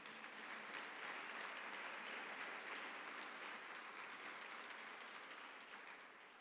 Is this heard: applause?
yes